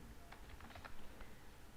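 Keys on a computer keyboard are tapped in a short, quiet burst of a few quick clicks, faint against a soft background hum.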